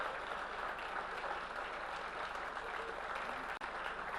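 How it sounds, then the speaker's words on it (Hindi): Applause from a live audience at a literary festival poetry session, steady and dense clapping held at an even, moderate level throughout with a brief dropout near the end. "तालियां और जोर से होनी चाहिए आलोक जी के लिए।"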